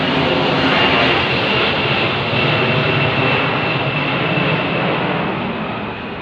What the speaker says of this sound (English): the plane is going over just as I say that